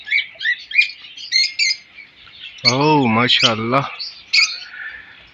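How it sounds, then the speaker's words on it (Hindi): Australian parrots kept in a cage chirp and tweet in quick, high bursts, close and fairly loud, while someone speaks briefly in the middle. "बहुत प्यारे प्यारे तोते इन्होंने रखे हुए हैं।"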